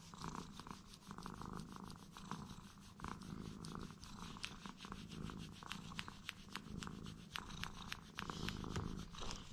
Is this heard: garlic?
no